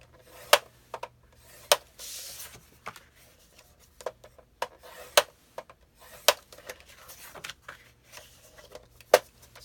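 Paper file folders scored at half-inch intervals on a scoreboard: a series of sharp, close taps and short scraping strokes spaced irregularly, with quiet pauses between them and no voices.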